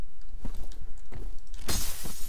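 Glass pane shattering in the first-person shooter F.E.A.R., a sudden bright crash late in the moment after a few dull thuds, loud and close amid game ambience.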